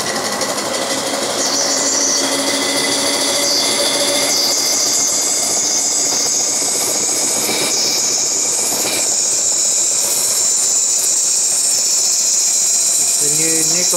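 A Jensen model 20 toy steam engine with a nickel-plated chuff pot runs at a brisk, even pace, giving a loud, close mechanical chuffing and whirring that continues without a break.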